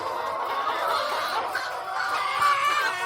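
Layer hens on a poultry farm cluck continuously in a dense, mid-range chorus of overlapping calls, close by and steady in loudness, with no talking.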